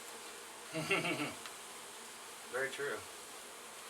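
Honey bees swarm through a large hive being cut out of a structure where they have lived for three or four years, a faint steady buzzing drone under two short bursts of nearby speech.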